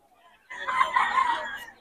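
A Lemon Sweater bloodline gamefowl rooster crows once, close and loud, after a brief quiet moment, its crow lasting just over a second.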